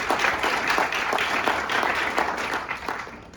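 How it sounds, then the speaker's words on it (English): Audience clapping at a campus State of the Campus speech, a full, continuous patter of many hands at steady loudness throughout, easing a little toward the close. "Clap, everybody."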